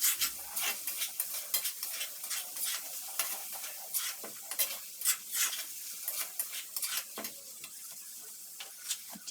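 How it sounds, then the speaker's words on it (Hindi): A spoon scrapes and stirs red chilli into sizzling chicken karahi in a pan, with quick, irregular scraping strokes over a steady frying hiss and no talking. "सबसे पहले मैंने इसमें लाल मिर्च ऐड की है, इसको मिक्स करेंगे"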